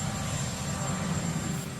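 A helicopter idles and whirs at an outdoor press gaggle near Camp David, a steady, fairly loud engine drone that fills the whole moment with no talk over it.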